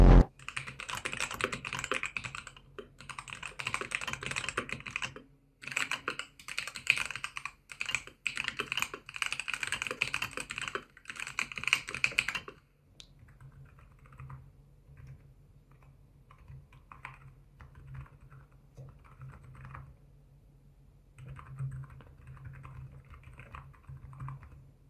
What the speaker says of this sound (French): Le montage du clavier est terminé, vous avez entendu le son